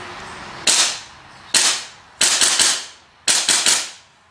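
An airsoft Desert Eagle .50AE gas blowback pistol with a relatively heavy slide fires four sharp, loud cracks, the first two spaced apart and the last two each doubled by the slide's clack, with no talk.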